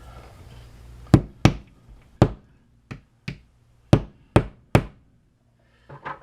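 A mallet taps a wall anchor into a wall while a level is being hung, with eight sharp, close knocks at uneven intervals and brief quiet gaps between them, and no talking.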